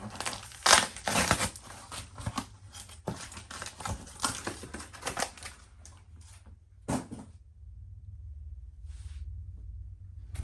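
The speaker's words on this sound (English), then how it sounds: "It's crazy that a lot of these packs are just ripping right open." Trading card packs from a mystery box are ripped open by hand in a series of sharp, crackling tears and crinkles close to the microphone, several bursts that fade into quieter handling and near silence toward the end.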